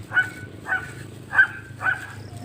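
Several dogs bark as they come out to greet someone on arrival, giving four evenly spaced barks about half a second apart, moderately close, with a low steady hum underneath.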